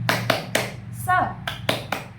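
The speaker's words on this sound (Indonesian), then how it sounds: "kita ice breaking terlebih dahulu dengan tepuk semangat ya" A short rhythmic clap chant in a fifth-grade classroom: a few sharp, evenly spaced hand claps with a brief vocal shout in the middle, close and fairly quiet over a low steady hum.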